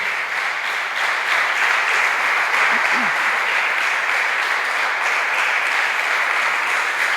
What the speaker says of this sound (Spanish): Denle un aplauso al Señor por esto.